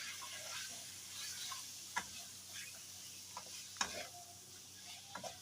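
Chopped tomato with green chilli roasts in a pan, giving a faint, low sizzle broken by several sharp spoon taps and scrapes against the pan as it is stirred.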